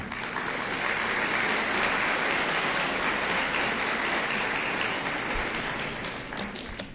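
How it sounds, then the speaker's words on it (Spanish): An audience at a judicial conference applauds warmly to welcome a speaker, a sustained, even wash of clapping from a sizeable crowd that slightly tapers in the final seconds. "Recibamos a la doctora Rosa María de la Torre Torres con un cordial y fuerte aplauso."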